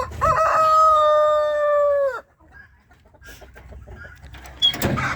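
A marble Brahma rooster crows once nearby, one long sustained call that cuts off sharply after about two seconds, followed by quieter clucking and farmyard rustle.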